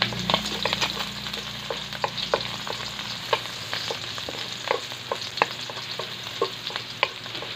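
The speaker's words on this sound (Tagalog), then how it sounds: "simulan na natin yung pagluluto ng sinigang. Igisa tayo." Garlic and onion sautéing in a pan at the start of cooking sinigang, a lively sizzle with frequent sharp crackles and stirring scrapes, close up and without speech.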